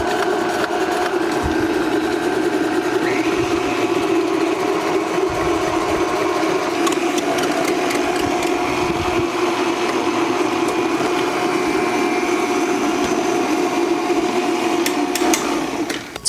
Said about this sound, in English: So let's grab a few pieces of zucchini, and we'll turn our mixer on a medium setting.